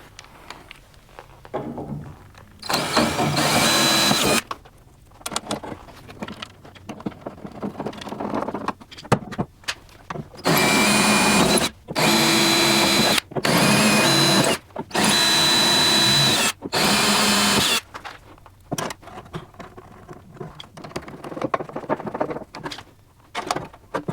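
A power drill drives screws into the rear body of a GT40 kit car in repeated short bursts, whirring loudly for a second or two each time with quiet pauses and small clicks between.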